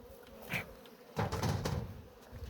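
Honey bees buzzing around a beehive during honey harvesting, a steady close hum with a louder stretch of activity partway through and a few scattered knocks.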